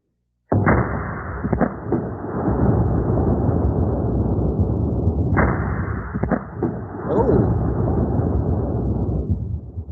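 A seven-barrel Nock volley gun fires a loud, close, heavy blast, then a second after a few seconds. Each boom rolls out into a long, rumbling decay that fills the space between shots.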